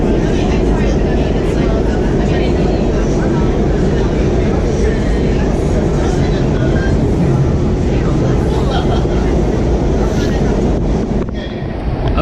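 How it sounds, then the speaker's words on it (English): WMATA Kawasaki 7219 Red Line train approaching Bethesda station, a loud continuous rumbling roar heard from inside the car with steady wind-like rushing noise, easing slightly at the very end, faint voices underneath. "The train's about to come in."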